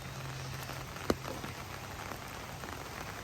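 Steady rain patters on a surface at a covered bridge along the Appalachian Trail in Pennsylvania, a dense even hiss with a single sharper drop or knock standing out partway through; no voices.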